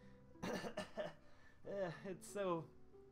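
A person coughing while playing The Legend of Zelda: Twilight Princess HD, a few close, rough coughs and throat clearing in quick succession, with voiced sounds mixed in.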